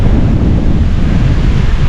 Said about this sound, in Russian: Этот ветер меня вымотал уже.